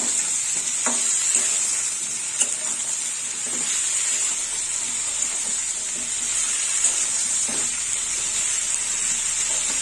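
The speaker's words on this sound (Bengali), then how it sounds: "একটু নেড়ে চেড়ে নেব।" Potato and brinjal, with jukti flowers, frying and being stirred in a pan: a steady high sizzle runs throughout, broken by occasional soft scrapes and knocks of the spatula, with no talking.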